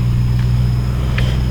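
Motorized tricycle engine idling close by, a loud, low, steady drone with a faint high whine, briefly overlaid by small clicks.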